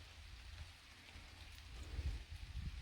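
Light rain falling outdoors on a deer lease during the rut, a soft steady patter with low rumbling wind gusts, faint and continuous with no talking.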